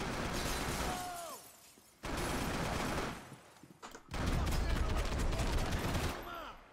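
Gunfire in the video game Max Payne 3, loud bursts of rapid shots and shattering in three dense volleys separated by short near-silent gaps, with brief tonal game effects between them.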